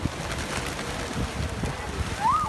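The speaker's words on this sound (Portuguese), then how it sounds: "E muitos, mas muitos pombos." Pigeons out on city streets in Israel, soft low cooing under wind noise outdoors, with a brief higher chirp near the end.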